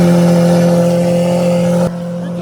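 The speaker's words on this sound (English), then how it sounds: "We're gonna start off with an SVJ cold start." A Lamborghini Aventador SVJ idles loud and steady right after a cold start, a dense droning engine note close by that drops abruptly near the end.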